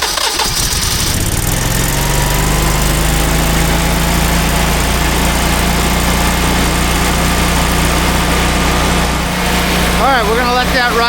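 A Generac standby generator engine cranks and catches, then settles into a steady, loud idle that runs on evenly, with brief talk and some clatter near the end.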